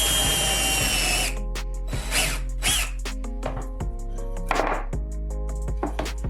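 A power drill bores into a tabletop with a zip tie fastened on the bit as a depth stop: a brief loud whine at the start, then several short bursts of motor and cutting noise with clicks and knocks between them, close by.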